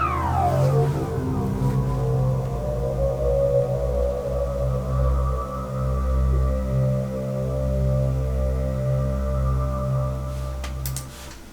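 Xpand!2 bright pads synth layered with a bright sync sweep in an atmospheric beat, a sustained, evolving chord wash with a falling sweep at the start and deep low tones throughout, steady and unaccompanied by speech.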